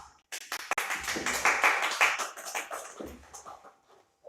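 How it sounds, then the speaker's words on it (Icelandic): An audience at a school annual celebration claps for a guest judge. Scattered claps build into a dense burst of applause at moderate loudness, then thin out and fade near the end. "Gefum honum gott klapp."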